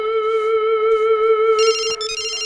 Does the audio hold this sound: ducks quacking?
no